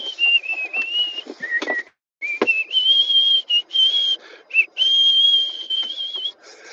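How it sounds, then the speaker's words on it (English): A person whistles a tune alone, a clear, close melody in sustained phrases broken by short pauses and a couple of sharp clicks. "Yeah, I'm whistling"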